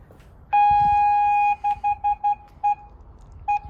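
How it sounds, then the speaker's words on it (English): A clear electronic tone from a newly installed rear parking sensor on a Mercedes W203 estate holds steady for about a second, then repeats as a string of short, evenly spaced beeps with a brief pause before the last. "if you heard that beep"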